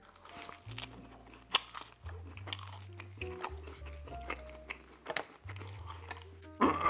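Close, wet chewing and crunching of Pizza Hut stuffed crust pepperoni pizza at a mukbang meal, with steady bites and mouth sounds running throughout and a louder crunch near the end.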